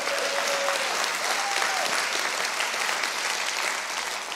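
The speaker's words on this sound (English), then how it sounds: "Give it one more round of applause for our students" Steady applause from a church youth crowd, sustained clapping that holds for a few seconds before easing slightly.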